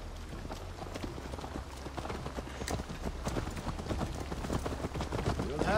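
Horse hooves clip-clopping at a steady riding pace in Assassin's Creed Valhalla, dense rhythmic thuds close by over a constant low rumble, with a voice talking over them.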